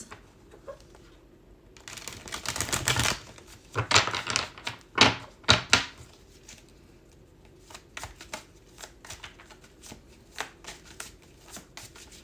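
Tarot cards being shuffled by hand, a run of papery riffles and flicks building to loud bursts in the middle, then lighter scattered snaps toward the end, close and clear with no talking.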